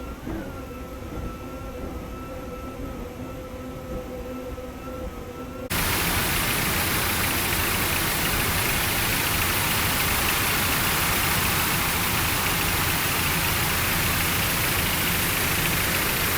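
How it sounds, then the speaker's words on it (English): An offshore racing powerboat engine roars from the cockpit during the Suncoast Offshore Grand Prix in Sarasota. A steady engine drone gives way to a loud, broadband, wind-blasted roar that fills the rest of the clip, with no voices. "there you see Scotty Begovich's hand on the throttles"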